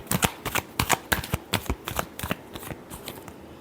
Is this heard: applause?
no